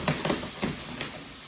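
Eggplant slices sizzle in a hot pan, a soft crackling hiss with a few brief bursts of louder spitting at the start, fading to a gentle steady fry.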